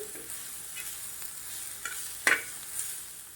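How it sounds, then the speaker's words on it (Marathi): Roasted green chilies are stirred in a frying pan, giving a soft steady sizzle with a few sharp scrapes and clinks of the spoon against the pan, close and without speech. "आता याच्यामध्ये आपण भाजलेली मिरची घालूया आणि सगळं मिक्स करून घेऊ"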